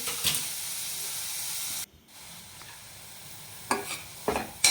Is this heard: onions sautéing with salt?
yes